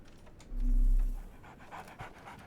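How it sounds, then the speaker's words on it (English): A dog pants in a detective video game, a short burst of quick breathy huffs close up, quiet and alone with faint background ambience. "So, Barnes has a dog now"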